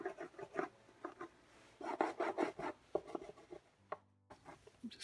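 Close, scratchy strokes of a Stabilo pencil on paper, quick back-and-forth bursts with brief pauses, quiet and without talking.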